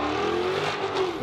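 Mercedes-AMG GT S engine revving hard, its exhaust note rising and holding in a loud, continuous roar close by, with a slight swell near the end.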